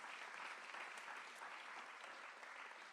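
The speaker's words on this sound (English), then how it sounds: "Can we get another round of applause for all our volunteers?" Sustained applause from a large crowd at a volunteer appreciation Shabbat service, loud and steady throughout with dense, continuous clapping and no voices standing out.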